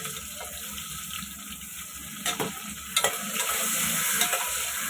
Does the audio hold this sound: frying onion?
yes